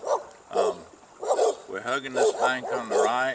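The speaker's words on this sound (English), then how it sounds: "You can hear the dogs barking" Dogs bark and yip repeatedly from near a riverbank by a steel bridge, the sharp calls coming in quick bursts while someone talks over them.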